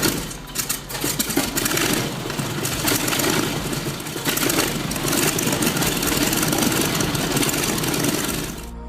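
Propane-fueled M2 tank engine running at a steady, rough mechanical drone, loud and close, holding an even rumble throughout.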